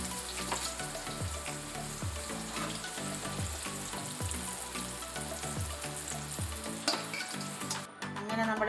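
Sugiyan, a sweet Kerala snack, sizzles steadily in hot oil, a dense continuous crackle with soft stirring bumps throughout and a brief clatter near the end as pieces are lifted out.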